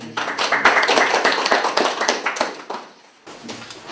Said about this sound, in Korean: 수고하신 선생님한테 다시 한번 큰 박수 부탁드립니다.